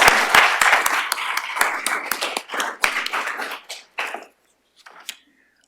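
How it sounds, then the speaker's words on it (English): Scattered clapping from a lecture audience, loose individual claps that thin out and fade, with a few isolated claps and small noises trailing into near silence. "please join me in a round of applause to thank Chuck Douglas for his leadership"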